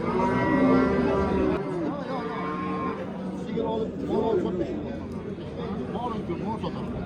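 A cow moos loudly and at length nearby at the Bakhmal livestock market in Jizzakh, then lower moos and bellows continue amid a noisy crowd of people talking in the background.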